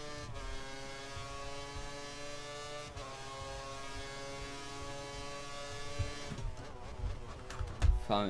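A race car engine in the F1 2013 game, Malaysia qualifying, holds a steady high whine that rises and revs toward the end, moderately loud and alone.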